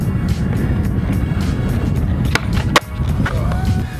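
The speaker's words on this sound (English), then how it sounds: "let's get to skateboarding" Skateboard wheels roll steadily across pavement with two sharp board pops and landings near the end, close and loud over a continuous rumble.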